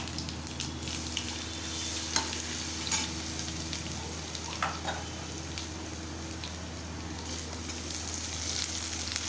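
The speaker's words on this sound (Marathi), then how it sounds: "कांदा चांगला भाजून घ्यायचा" Onion with crushed garlic and curry leaves frying in a pan, giving a continuous quiet crackling sizzle with occasional clicks of stirring, steady and close throughout.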